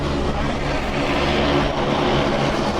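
Propeller aircraft engine, identified as a Cessna Caravan, droning loud and close in a steady, unbroken roar across the whole stretch with no talk over it.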